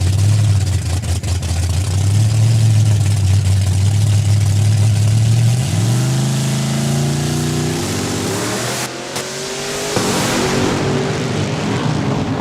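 A 1970 Plymouth Duster drag car roars loud and close down the track, its engine note climbing through rising harmonics as the tires spin, then the revs drop sharply near the end as the car shuts down.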